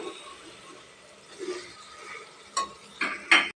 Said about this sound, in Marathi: आता सोयाबीन छान असं आपण एकसारखं परतूया